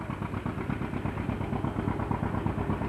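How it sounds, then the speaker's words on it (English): An old 1934 John Deere tractor engine runs steadily while pulling a threshing machine at a farm threshing demonstration, its low, rhythmic putter-chug continuous and fairly close with no talking. "There you can hear that old John Deere running there."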